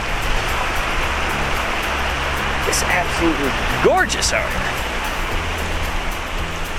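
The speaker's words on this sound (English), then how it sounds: "this is beautiful though, I have to admit, with this water running right here" Steady broadband rush of water running in a stream outdoors, constant and fairly loud throughout, with someone talking over it.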